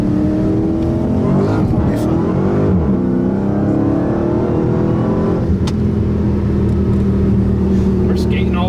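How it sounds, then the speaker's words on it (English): A Dodge Hellcat pulls hard under acceleration, its supercharger whining over a thick engine rumble that stays loud and close for several seconds, with someone talking over it. "not a deal breaker when you have this amount of blower whine and blower noise"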